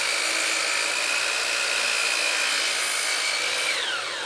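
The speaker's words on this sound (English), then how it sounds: "I'm gonna cut this down to a manageable size on the miter saw" A miter saw cuts through a wooden board with a loud, continuous high-pitched whine that holds steady for several seconds, then eases off slightly as the blade comes out of the cut.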